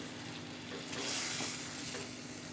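Bheja masala fry with chopped green coriander sizzles steadily in a pan while it is stirred, a soft continuous frying hiss with a gentle swell in the middle, fairly quiet and without voices.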